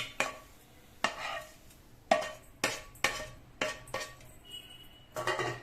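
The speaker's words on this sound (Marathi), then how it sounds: "तर आता हे मिश्रण मी यामध्ये पुन्हा टाकत आहे।" Coconut barfi mixture scraped and tapped from a pan into a ghee-greased plate, a series of sharp metal clinks and scrapes of utensil on cookware, close and fairly quiet, with no talking.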